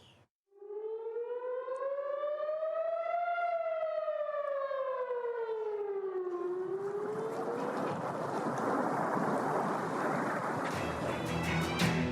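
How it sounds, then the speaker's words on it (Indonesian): A distant air raid siren over Tel Aviv wails, its tone rising and falling in a long mournful sweep, then is drowned by a loud rushing roar. "Bunyi sirine terdengar mencekam di atas kota Tel Aviv."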